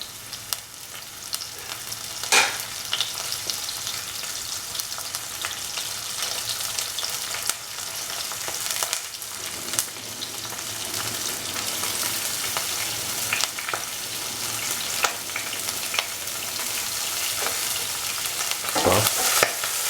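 Dry shrimp and dry red chilies sizzle steadily in hot oil for a shrimp tomato roast, a continuous crackling fry with occasional louder pops and stirring scrapes, close and alone without voices.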